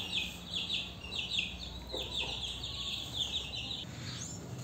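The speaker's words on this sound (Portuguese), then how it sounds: "Esse galo aqui, esse frango, né? Tem 8 meses, completou agora." An eight-month-old rooster in a backyard flock gives a string of faint, distant clucks and calls over a steady low outdoor background.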